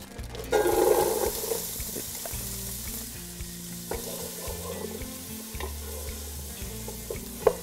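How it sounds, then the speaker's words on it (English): Onions drop into a hot pot on a stovetop turned down to low, with a brief loud crackle on contact that settles into a steady, close sizzle and occasional stirring knocks. "I'm gonna put my onions in."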